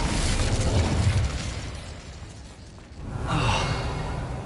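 A fire spell cast in the video game Hogwarts Legacy, a rushing whoosh of flame that fades and then swells again in a second burst near the end, with no talk.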